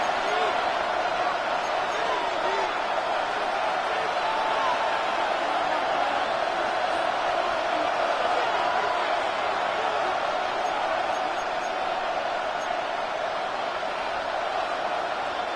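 A dense crowd roar fills a stadium in an EA Sports football video game on third down with two minutes left, a steady, loud, unbroken wall of cheering from start to finish.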